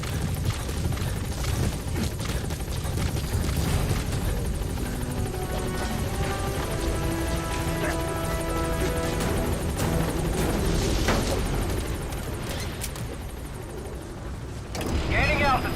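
A helicopter's steady rotor roar in Metal Gear Solid V: The Phantom Pain fills the scene, loud and continuous amid rumbling game effects, with a brief dip near the end before the noise returns.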